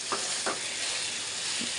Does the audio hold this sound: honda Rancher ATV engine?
no